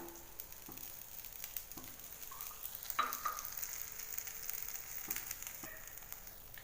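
Omelette of egg and onion frying in oil in a pan, a steady soft sizzle at low level with a few faint clicks and taps of utensils, no talking.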